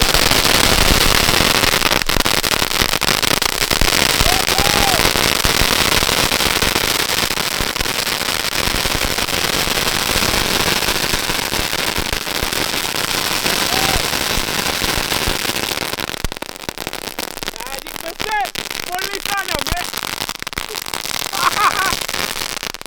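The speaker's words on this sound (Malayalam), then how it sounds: "അപ്പൊ ഇനി നമ്മുടെ മാജിക് ബസ്സിന് നമ്മൾ തീ കൊടുക്കുകയാണേ" A Magic Bus firecracker lit during Vishu celebrations burns with a long, dense, steady crackle for many seconds. It ends in scattered sharper pops, with voices faintly underneath.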